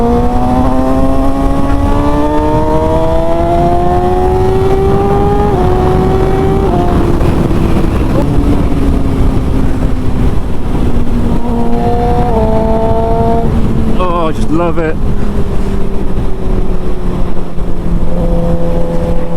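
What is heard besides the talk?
sport motorcycle engine revving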